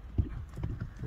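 A horse's hooves clip-clop in a short run of light, soft beats, faint and a little distant, with no voices over them.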